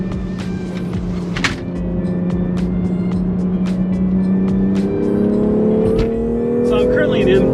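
A BMW X3 M Competition driven hard at speed, its engine note a steady loud drone that rises in pitch toward the end, with road and wind noise and a voice talking over it throughout.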